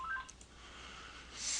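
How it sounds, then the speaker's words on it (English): A telephone keypad gives short dialing tones, soft and brief, as a phone goes off in the background of a mortgage rate update recording, followed by a rising burst of noise. "Sorry about the phone there."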